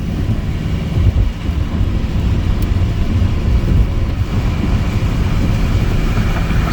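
Car driving on a highway in heavy rain at about 55 mph with a window open, a loud, constant roar of road noise, wind buffeting and water spray that stays dense and unbroken from start to finish.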